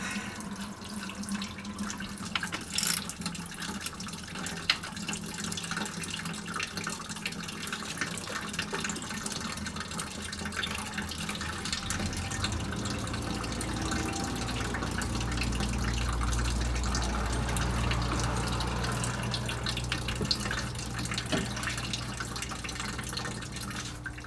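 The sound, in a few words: water draining from 2007 Dodge Ram HEMI cooling system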